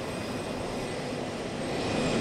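Air Force One's aircraft engines whine and roar steadily on the tarmac, a constant broadband drone that holds level throughout with no talk over it.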